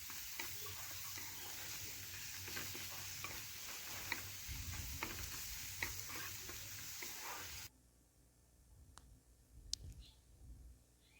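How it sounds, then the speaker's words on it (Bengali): Turmeric, coriander, salt and chili powder are stirred and fried with onion and tomato in a pan, giving a steady hiss of sizzling with scraping strokes of the spatula, then dropping to quieter clinks near the end. "এটাও ভালোভাবে পেঁয়াজ ও টমেটোর সাথে এভাবে নাড়াচাড়া করে মিশিয়ে নিলাম।"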